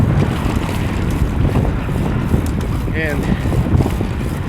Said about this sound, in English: I can't do it in the headwind like this one